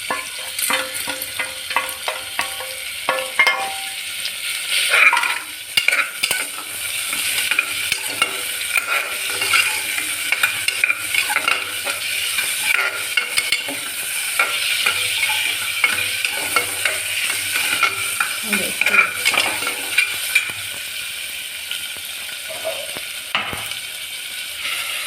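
Sorrel (gongura) greens sautéing in a pan with asafoetida, tomato and salt, giving a steady close sizzle and frying crackle throughout, with repeated stirring scrapes and no talking.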